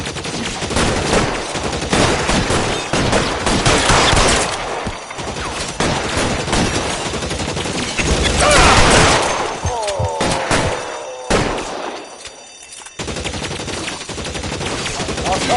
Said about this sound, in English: I'll lay down some suppression fire